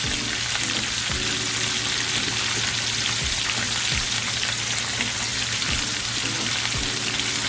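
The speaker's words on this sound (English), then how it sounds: "You're gonna get a nice sear on one side, and you're gonna turn it over to the next side." Ribeye steak searing in a pan on a stove at medium heat, giving a loud, steady, dense sizzle with occasional small pops and crackles throughout, no voices.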